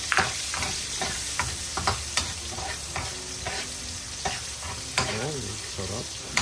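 Onions and ground pork sizzle steadily in a hot pan while a utensil scrapes and stirs, giving repeated sharp clacks against the pan over the constant frying hiss. No one talks.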